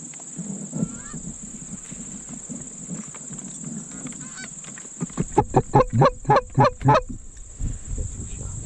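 Wild geese flying in during an early-season hunt in New York, their honks starting faint and then swelling into a loud, rapid run of calls near the end over a steady high outdoor whine.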